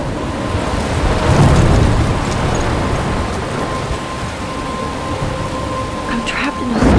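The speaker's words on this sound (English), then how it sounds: "I'm trapped in a storm." Thunderstorm with steady rain in the video game Life is Strange, a broad continuous wash of downpour with low rumbling throughout, loud and close, while a voice speaks over it.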